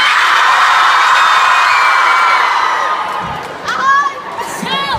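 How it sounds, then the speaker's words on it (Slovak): A large concert crowd at a show in Žilina roars, shouts and cheers loudly and continuously, with scattered whoops rising near the end. "ukážte spodok, ako sa kričí hore"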